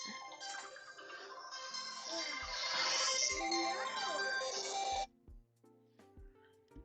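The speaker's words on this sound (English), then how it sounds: "Oh, I'm getting a phone call." A phone ringtone plays loudly and steadily for about five seconds as an incoming call arrives, then cuts off, leaving a few faint clicks and brief tones.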